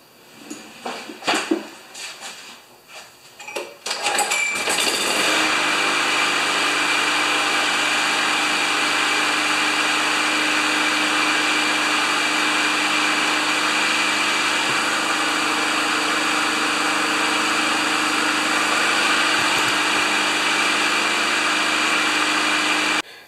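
A Craftsman lawnmower engine with a cleaned carburetor and automatic choke sputters through a few uneven pulls, then catches and runs at a steady, loud, droning idle until it cuts off at the end.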